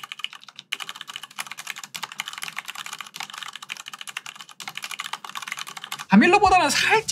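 Someone types steadily on a computer keyboard, producing rapid, close clicky keystrokes for about six seconds before a voice starts speaking near the end.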